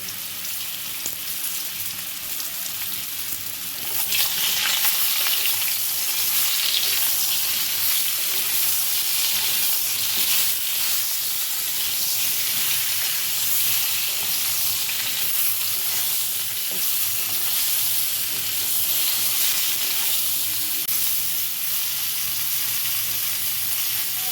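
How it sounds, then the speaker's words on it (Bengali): Vegetables with ridge gourd and raw banana, lightly salted, sautéing for shukto, a steady loud sizzle that swells after a few seconds and holds as a dense hiss with faint stirring. "সবজিগুলো একটু কষিয়ে নিয়েছি"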